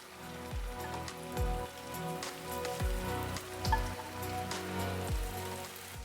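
Chanterelle mushrooms frying in hot oil, a steady dense crackle and sizzle heard up close with repeated low thumps and small pops scattered throughout, no voices.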